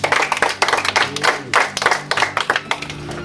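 An audience at a live Gasoro Comedy stand-up show claps in a burst of dense, irregular handclaps that swell and ease in waves, fairly close and loud, with no talking over it.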